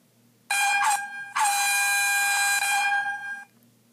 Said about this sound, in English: I set an alarm for tomorrow. I have an air horn.